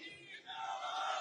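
A crowd cheers and claps with raised voices at a political rally in Ludhiana West celebrating an election win, a short, fairly faint wash of continuous noise.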